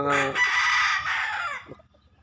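A large rooster crows once loudly and close, the long call lasting over a second before trailing off into quiet.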